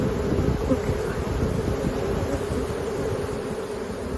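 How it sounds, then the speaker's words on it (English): A dense, steady buzz of many honeybees swarming close by over hive frames, continuous and unbroken with no voices. "what we're looking for is bees to swarm over it and see whether they're attacking or just checking out"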